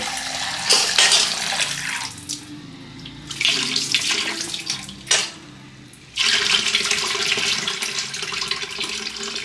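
Tap water runs and splashes steadily over soya chunks being rinsed, pausing briefly and then resuming strongly, close by with no talking.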